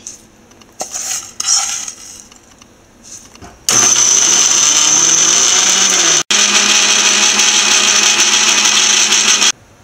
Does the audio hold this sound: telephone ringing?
no